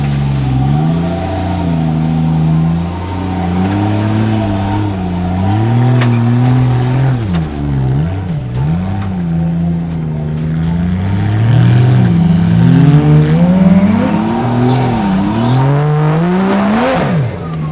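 A 4WD engine revs hard and loud through a muddy rut section, its pitch repeatedly climbing and dropping as the driver works the throttle, close and continuous with no talk.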